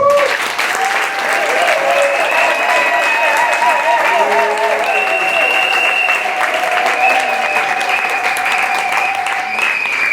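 Wedding guests at an official and religious marriage ceremony cheer and applaud, a loud constant roar of clapping mixed with sustained voices and ululating cries rising and falling throughout.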